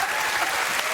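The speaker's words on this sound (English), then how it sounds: "that's the scariest round of applause I've ever had" Studio audience applause on a television chat show, a dense, steady wash of many hands clapping close and loud, with no break across the moment and no talk over it.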